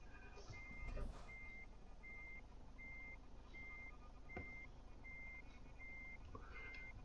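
A truck in the Euro Truck Simulator 2 driving game sounds its reversing alarm, a regular series of evenly spaced beeps over a low steady engine drone, faint and with no talk.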